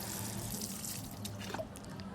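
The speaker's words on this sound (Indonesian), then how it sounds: "kita bersihkan lagi dengan air mengalir" Running tap water splashes steadily over succulent roots held underneath as the growing medium is washed off, a continuous close wash of water without pause.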